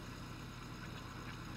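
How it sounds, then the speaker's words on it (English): A tractor engine in Farming Simulator 2013 idles with a steady, low, continuous hum while a sugar beet field is cultivated, fairly quiet and unbroken, with no one talking. "I'm just putting a tractor on it right now to finish cultivating it."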